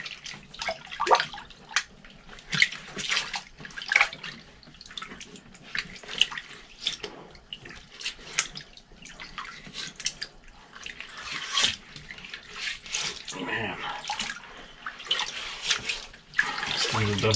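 A brush scrubs a pair of old vintage Asolo hiking boots submerged in water, giving repeated wet swishing strokes with splashes and drips, close and steady throughout.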